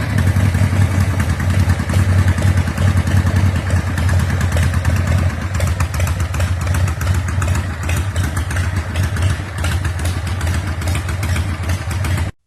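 A custom old-school vintage Harley motorcycle engine runs close by, a loud, continuous throbbing idle with a clattering mechanical edge that holds steady throughout and cuts off abruptly at the end.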